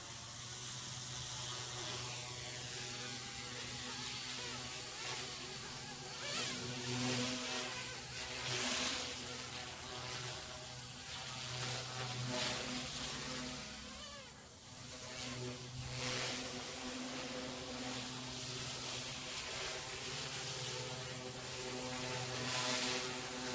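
A Mikado Logo 200 RC helicopter's electric motor running steadily in flight outdoors, a continuous high whine with rotor buzz that wavers slightly in loudness as the craft moves.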